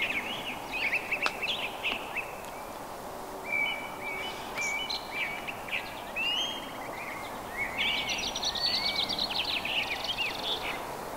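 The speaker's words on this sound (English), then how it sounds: "Did you hear those birds?" Several birds chirping and trilling outdoors, a steady mix of short calls and songs over a soft background hiss, with no talking.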